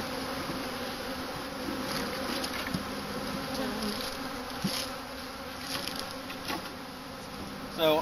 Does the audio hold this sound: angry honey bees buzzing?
yes